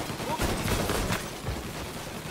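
Gunfire in a firefight in Mafia: Definitive Edition, a dense, continuous rattle of shots blending into a noisy battle wash at moderate loudness, with no clearly separated individual reports.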